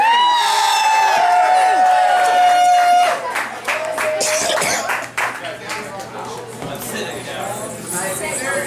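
Audience clapping and whooping for drag performers at an open stage night, a loud crowd with cheers over a steady backing hum, fading somewhat after a few seconds.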